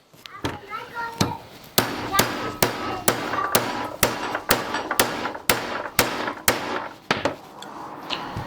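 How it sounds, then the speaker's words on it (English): A cut-down piece of pipe is hammered to drive a bearing back onto a G5 rear suspension part, giving a steady series of about fifteen sharp, loud metallic strikes close by, with no talking. "We just go ahead and hammer the bearing back on. We have a cut down piece of pipe that we use."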